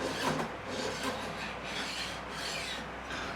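A metal file rasps along the fret ends of an Aria LW12HB guitar to bevel them, made in Japan, giving soft, steady back-and-forth strokes, close and faint with no talk.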